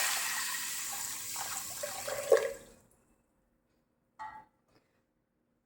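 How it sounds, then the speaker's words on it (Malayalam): Water is poured into a pressure cooker holding green gram, a splashing, gurgling pour for about two and a half seconds that cuts off, followed by a couple of brief knocks. "ഇനി ഇതിലേക്ക് ഒരു 3 കപ്പ് വെള്ളം ഒഴിച്ചു കൊടുക്കാം"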